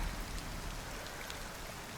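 Rain falls steadily in the video game Cairn, a soft, even patter and hiss that stays continuous throughout.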